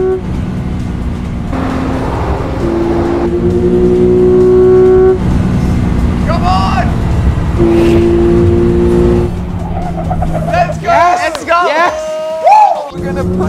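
Race car engine in a driving video game, a loud sustained drone with rising and falling revs and brief squeals, running under an excited voice talking throughout.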